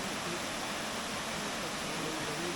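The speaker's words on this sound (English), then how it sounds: "So we made it finally to Indian Creek Falls." Indian Creek Falls near Bryson City, a waterfall on the Deep Creek trails, heard as a dense, unbroken hiss of rushing water close by, with no voices.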